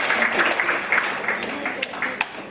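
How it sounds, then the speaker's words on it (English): An audience at a corporate quiz night in Mombasa claps for someone, a short patter of moderate applause with scattered sharper claps that thins out, heard under a voice talking. "Let's give him a clap."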